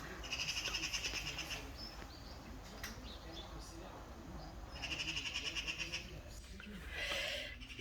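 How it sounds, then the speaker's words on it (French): Morning birdsong outdoors, with repeated bright chirping bursts early, mid and late, over a steady background hum and faint speech. "On a le chant des oiseaux"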